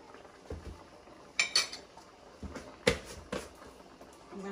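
Crayfish and salt go into a pot of catfish pepper soup, giving a few soft clinks and knocks of a spoon or utensil against the pot amid quiet background, with no talking.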